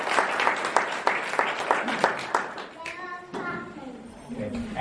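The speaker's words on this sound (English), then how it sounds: "So please give her another round of applause." An audience at a church speaking event applauds a speaker, dense overlapping clapping that fades after a few seconds into a quieter room with voices talking.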